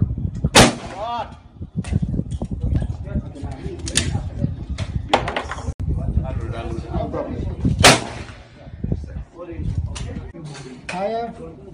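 Gunshots fired on a film set, sharp loud cracks going off singly at irregular intervals with voices talking between them.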